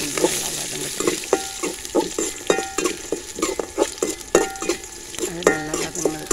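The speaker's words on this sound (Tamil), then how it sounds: "அடுத்து அதில் இஞ்சி, பூண்டு அதுவும் போட்டு இஞ்சி பூண்டு நல்லா வதங்கிட்டு" Ginger and garlic sautéing in a pan for a pirandai chutney, with a steady sizzle and repeated stirring scrapes and clinks of a utensil against the pan, close and fairly loud.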